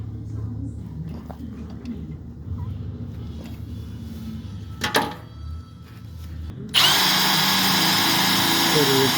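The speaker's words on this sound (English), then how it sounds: "Quarter inch drill bit. Gonna rivet this in there." Power drill with a quarter-inch bit boring a hole for a rivet on a commercial mower deck latch, a steady loud whine starting near the end after quieter handling noise and brief talk.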